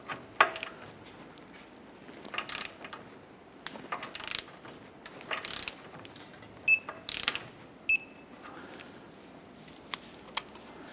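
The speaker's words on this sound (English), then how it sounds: "Let's go ahead and torque the lower ball joint nut to 60 foot-pounds." A torque wrench ratchets while tightening the lower ball joint nut on a 2008-2012 Honda Accord suspension knuckle: quiet, close bursts of rapid clicking separated by short pauses.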